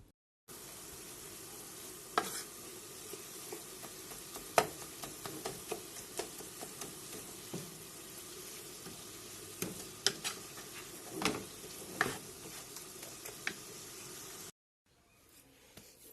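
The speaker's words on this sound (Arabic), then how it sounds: "غندير تشحر هادشي، ديرو تشحر" Vegetables, olives and herbs sizzle and fry in a pan, with steady crackling hiss and intermittent stirring scrapes and clicks, close and alone for about fourteen seconds.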